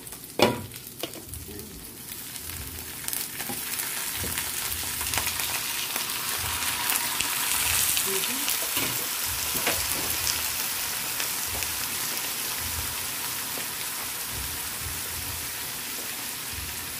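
Squid sizzles and fries steadily in a pan for adobo, a dense continuous crackle with occasional stirring scrapes, fairly close and even throughout.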